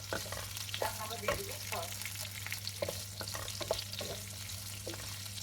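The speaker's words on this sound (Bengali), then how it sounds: "এটাকে আবার একটু ভেজে নিই ভালো করে" Sliced capsicum and onion fry in a pan with a low, steady sizzle, broken by several sharp scraping stirs, all fairly quiet over a constant hum.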